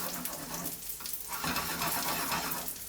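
Korean chive pancake (buchujeon) frying in a pan as the pan is shaken back and forth, giving a steady close sizzle with shifting scraping swells and no talk.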